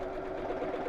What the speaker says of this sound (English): I put my foot down, it'll start sewing backwards, do a bar tack at the end, and then zigzag forwards again